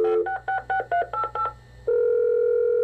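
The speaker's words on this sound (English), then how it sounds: "have your home computer store phone numbers and even dial the phone for you" A home computer dialing a telephone in 1994: seven quick, evenly spaced DTMF tones beep one after another, followed by a steady, loud tone.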